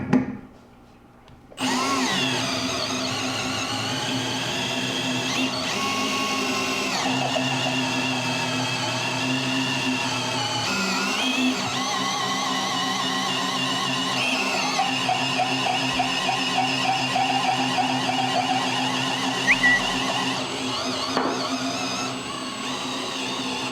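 Power drill boring down to depth through a drill collar during an isolator installation, a steady loud mechanical whine held for about twenty seconds with shifting pitch and small bumps, no talk over it.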